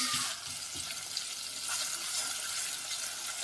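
Garlic and ginger paste fries in a sufuria with a soft, close, continuous sizzle and a few light stirring clinks, with no voices.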